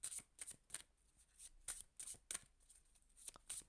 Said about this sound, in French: Allez, on va prendre l'oracle du chakra du cœur et je vais tirer une dernière carte.